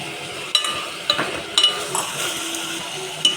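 Tomatoes dropped into a pan and stirred for a gongura chicken curry, giving soft scraping and stirring with a few sharp clinks of a utensil against the pan over a steady faint sizzle.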